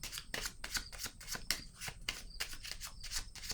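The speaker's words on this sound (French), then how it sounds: "Je vais déposer une carte sur la lettre maintenant." A tarot card laid down onto a letter, heard as a run of close, dry papery swishes and soft slaps repeating in quick bursts with no talk.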